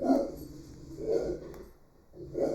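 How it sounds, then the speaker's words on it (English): A dog gives short upset barks and whimpers, three separate bursts spaced about a second apart, fairly close but not loud, with no talk over them. "My dog's upset about something."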